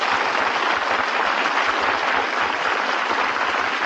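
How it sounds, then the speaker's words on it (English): A studio audience at a 1939 radio celebrity program breaks into applause, a dense, steady clapping that fills the whole moment loudly and evenly with no voices over it. "you can tell, my friends, he's really eating it by the applause of this studio audience"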